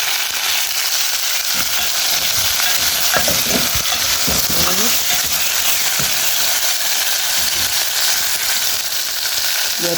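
Chopped tomato sizzles loudly in a hot frying pan as a spoon stirs it, a dense continuous frying hiss with scattered scraping stir sounds, close up, while green maize and pigeon peas are being cooked in a traditional African dish.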